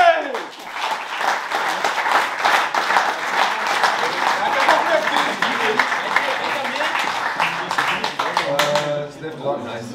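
A large crowd at an Age of Sigmar tournament cheers and claps loudly and steadily, with whoops and shouts over dense applause that fades slightly near the end.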